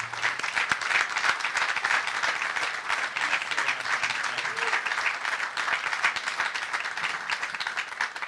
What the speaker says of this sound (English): So please, ladies and gentlemen, please join me in a round of applause for General Kukolo again.